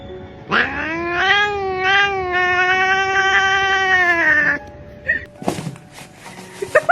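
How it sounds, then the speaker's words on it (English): A cat gives one long, drawn-out wailing meow up close, loud and sustained for several seconds, followed by a few soft thumps and light rustling. "meowing?"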